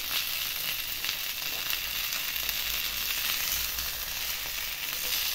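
Chicken shallow-frying in a little oil on a tawa over a high flame, a steady dense sizzle that holds at an even loudness throughout, with no talking.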